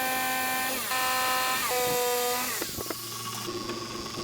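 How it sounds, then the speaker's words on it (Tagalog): A power drill with a 10mm bit bores corner holes in wood for a light switch cutout on an upcycled study table, then a jigsaw cuts away the remaining wood; a close, loud, pitch-shifting motor whine gives way to rough buzzing. "Ngayon naman ay 10mm na drill bit para sa corners ng light switch. At jigsaw para putulin ang natitira pang kahoy."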